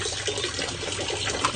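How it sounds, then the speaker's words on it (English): Water pours in a steady, even stream from the hose of an Enagic Leveluk SP 501 water ionizer, a brief close-up gush with no voices. "this strong acidic water is a bit different because it comes up from the top hose, and then strong Kangen come up from the bottom hose"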